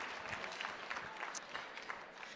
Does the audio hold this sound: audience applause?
yes